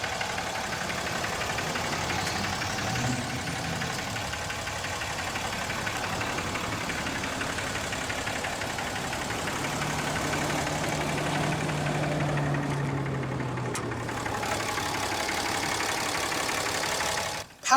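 A 2017 Ram 2500 with a Cummins 6.7-liter turbo diesel inline-six idles with a steady rumbling clatter and a whistling hum for most of the span, ending in a brief sharp noise.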